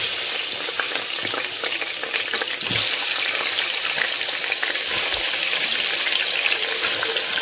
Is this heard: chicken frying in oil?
yes